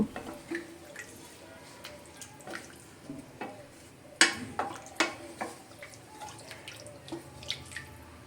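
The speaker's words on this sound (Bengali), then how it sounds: "এবার আমি এর মধ্যে দিয়ে দেব বেশ পরিমাণে জল একটু বেশি করে জল দিয়ে খুব ভালো করে নেড়ে চেড়ে নেব" Water is poured into a pan of dry fish curry with colocasia and potato and stirred, giving scattered drips, splashes and clinking scrapes at close range, with a sharper splash midway and faint background noise.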